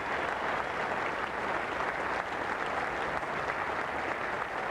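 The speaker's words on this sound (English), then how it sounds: "Applause now, thickening right around the ground." Cricket crowd applause spreading around the ground after a bowler's 300th Test wicket, England against West Indies in 1995, a steady, even wash of distant clapping that sustains without pause.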